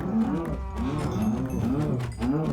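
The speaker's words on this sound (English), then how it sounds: "Sorry about the volume of the cows, but I need leather." Cows mooing in a video game, several overlapping low drawn-out moos that fill the whole moment, loud and close, with no talking over them.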